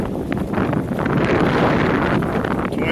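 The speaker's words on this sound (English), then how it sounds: "The wind's still blowing" Strong, gusty wind roars across Duluth Harbor and buffets the microphone of a John Welsford Navigator sailboat, a dense, steady rush that surges and eases with no voices.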